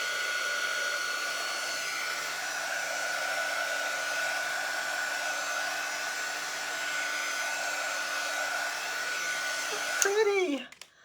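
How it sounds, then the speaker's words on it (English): A handheld heat tool blows a steady, even whir over glittery craft paint for about ten seconds, then clicks off and spins down abruptly. "I'm going to take my heat tool to this just for a second, just to start it drying."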